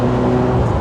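A 46-year-old sporty car's engine revs hard at redline in a steady, loud, buzzing drone from inside the car, without any pause.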